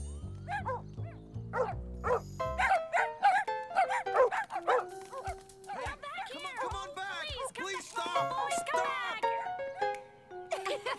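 Cartoon dog barking in an animated children's episode set around a ski trip, a string of short yips and woofs mixed with a child's and adults' speech and light music throughout.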